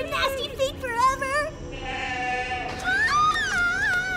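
A goat bleats in quavering, drawn-out cries, close and loud, repeated a few times alongside and under people talking.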